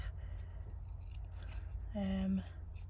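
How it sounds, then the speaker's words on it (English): Scissors make a single short snip through paper during a potions-and-spells papercraft project, close and clear against a quiet room. "I'm going to cut that little bubble off because I've gone wrong"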